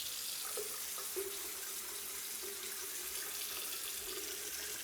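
A faucet runs hot water steadily into a bathroom sink with a push-pop drain, a constant close hiss and splash lasting several seconds without talk.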